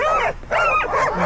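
Sled dogs bark and yip in quick bursts at the start line of the Kuskokwim 300 race, a close, loud volley from a kennel team of four.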